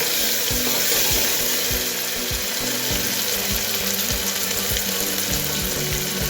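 Tomatoes sizzling in hot oil for a homemade mixed-vegetable drumstick sambar, a steady broadband fry hiss with regular soft clicks of a spoon against the pan, close and continuous, no talking.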